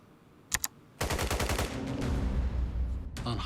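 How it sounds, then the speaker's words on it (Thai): Trailer gunfire from the medical drama Dr. Romantic 3: two quick sharp shots open, followed by a loud sustained burst of rapid automatic fire that rattles on, then fades and gives way to a few more cracks at the end. "เปิดมาปุ๊บก็มีเหตุการณ์ยิงเลย"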